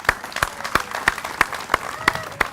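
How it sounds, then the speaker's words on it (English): Crowd of motorcycle riders applauding for fire rescue support crews at a Brotherhood Ride ceremony in Southwest Florida, with sharp rhythmic claps ringing out over a steady wash of clapping throughout. "So riders, how about a round of applause for them?"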